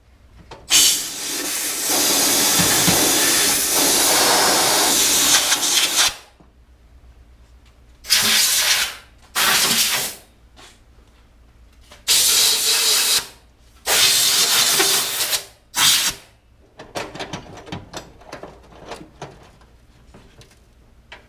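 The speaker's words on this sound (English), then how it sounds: "I'm going to take my blowgun and blow that out from underneath the nut" An air blowgun blasts rocks and dirt out from under a nut on a car chassis, several loud hissing bursts of compressed air separated by pauses, followed by small rattles.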